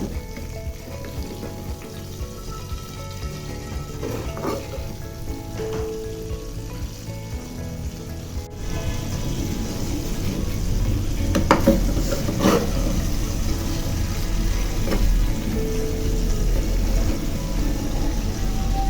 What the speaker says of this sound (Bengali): তেলটা গরম হয়ে গিয়েছে, আমি মাছ দুটো তেলের মধ্যে দিয়ে দিয়েছি